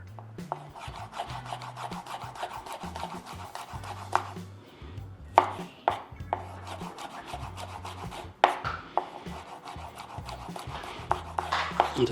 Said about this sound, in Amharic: ከዛነች ሽንኩርት እንከትፋለን።